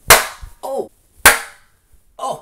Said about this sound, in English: If you do the clap test